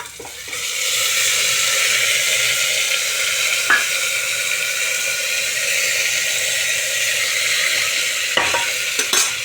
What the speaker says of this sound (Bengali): এবার ডাল আর ডালিয়াটা দিয়ে দিচ্ছি।